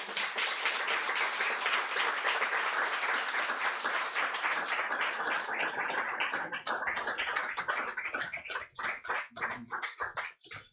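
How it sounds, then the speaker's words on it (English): Audience applause for poets at a Juneteenth poetry reading: dense, steady clapping from a crowd that thins into scattered individual claps before fading out. "Round of applause to all our poets this evening"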